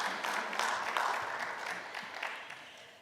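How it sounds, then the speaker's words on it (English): A small audience at a college business innovation competition claps briefly, a burst of applause that fades out over a few seconds. "Let's give one more round of applause to our participants"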